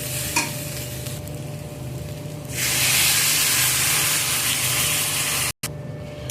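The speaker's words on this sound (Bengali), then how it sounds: "আমার এখানে ভালো করে কষানো হয়ে গেছে, আমি এখন এর মধ্যে দিয়ে দেব জল" Water poured into hot, well-sautéed masala for a curry sets off a sudden loud, broad hissing sizzle that swells and holds steadily after a quieter stretch of low cooking noise.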